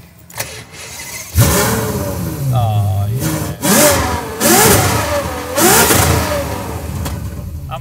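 A 700hp Ferrari FF engine cranks and fires up, then revs hard several times in loud roaring bursts close by; a brief voice is heard.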